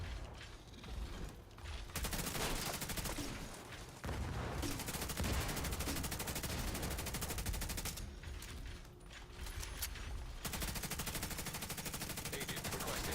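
Pistol gunfire in The Division 2 during a Warlords of New York mission, rapid bursts of shots mixed with mechanical clatter and game effects, loud and dense with short pauses between volleys.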